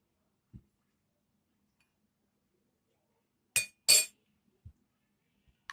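A spoon stirring raita in a bowl makes a few sparse clinks against the dish, with two brighter, louder taps in the middle and quiet gaps between.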